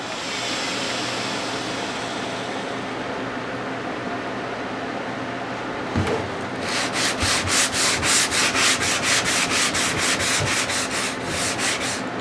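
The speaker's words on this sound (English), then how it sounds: "Why you're hand sanding it versus power sanding it?" Wood is sanded by hand for a rustic key and letter organizer, first as a continuous scratchy rubbing, then as a run of regular rhythmic back-and-forth strokes, close up and with no talking.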